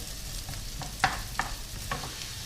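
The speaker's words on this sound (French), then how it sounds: "je vais commencer par faire revenir mes échalotes pendant 2 petites minutes" Shallots fry in a pan with a soft, steady sizzle, broken by a few light scraping stirs of a utensil.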